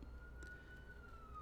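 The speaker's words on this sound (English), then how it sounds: "Now, that siren, by the way, is local." A police car siren near Kenosha holds a thin, steady wailing tone, faint and distant beneath a low background hum.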